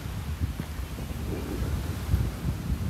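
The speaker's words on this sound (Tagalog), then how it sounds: "Sarap ng hangin dito." Breezy sea wind at Bolabog Beach in Boracay rumbles and buffets steadily and close, a low continuous rush with no speech.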